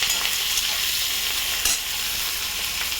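Around four green chillies fry in hot oil for a potato and fish dish, producing a loud, continuous crackling sizzle with a brief stirring scrape midway and no talking.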